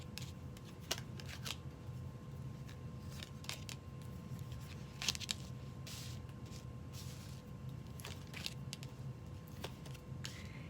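Soft papery snaps and flicks of tarot cards being shuffled and laid out, scattered at irregular intervals over a quiet background hiss.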